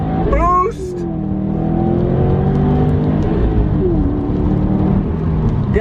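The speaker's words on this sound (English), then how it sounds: "Hold on, we're gonna do a launch here." A 2017 Subaru WRX STI launches, its engine climbing and falling in pitch as it revs and pulls hard. The drone is loud and steady from inside the cabin, and a voice is heard briefly at the start.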